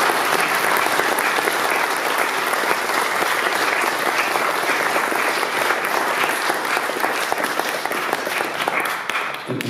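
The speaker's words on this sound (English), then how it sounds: "Let's give Stephen a round of applause." Audience applause for a speaker named Stephen after a talk on science and religion, a loud, dense and steady roar of clapping from a large crowd that continues throughout without any speech.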